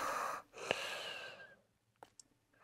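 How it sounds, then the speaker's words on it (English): Heavy, close breathing in a horror game: a long, raspy exhale, a brief pause, then a second breath that fades into near silence before a couple of small sharp sounds. "I'm hearing breathing."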